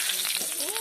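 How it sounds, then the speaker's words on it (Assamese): Onions tossed into leftover oil from frying fish, a brief close sizzle and spatter under a faint, short voice-like sound. "এতিয়া পিঁয়াজ দি দিওঁ।"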